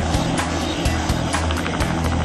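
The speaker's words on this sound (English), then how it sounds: "As the plane makes its final descent" An airplane on its final descent, heard as a steady, loud broadband engine roar with low pulsing rumble throughout, no voices.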